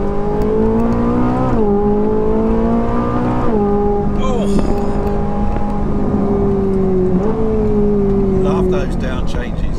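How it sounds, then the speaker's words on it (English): Ferrari 458 Italia V8 engine, loud and close, with several sharp rev blips on downshifts, each a rising snarl before settling at a lower steady drone; someone talks over it. "Look at those down changes"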